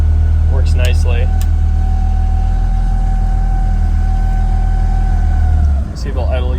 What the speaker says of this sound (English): Let's see if it'll idle yet. Yep, there we go. Now we're idling.